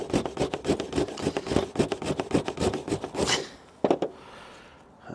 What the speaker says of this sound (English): And we get this and we just grate it like we would a cheese grater.